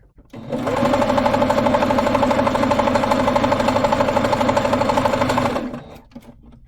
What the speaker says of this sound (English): I'm just gonna sew those together quick.